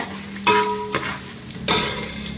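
Chana dal, urad dal and asafoetida are stirred and fried in a pan. A close, steady sizzle runs throughout, broken by two or three clear scraping strokes of the spoon, with no talking.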